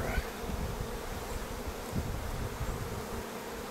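Honey bees hum steadily around an open hive, a dense continuous buzz close by, with frames being worked by a beekeeper and no voices.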